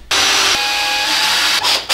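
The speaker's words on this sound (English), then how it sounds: "20 millimeter screws, and I screw up from underneath" A power drill drives 20 mm screws up from underneath into an acoustic panel on a home studio wall, giving a close, loud, steady whirring buzz with brief pitch shifts and short dips near the end.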